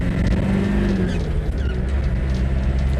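A 1998 Land Rover Defender 110 County station wagon engine hums and rumbles steadily throughout, with road noise, as the off-road truck drives along.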